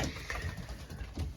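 Racing pigeons coo softly in their loft, low throaty calls repeating in an uneven rhythm over a steady background of rustling and faint noise.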